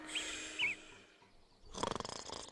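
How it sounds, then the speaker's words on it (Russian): A character snoring in the video game Pilgrims, soft rhythmic low breaths with a few chirpy game sounds, then a louder rattling snore near the end. "Храпит, вы слышите?"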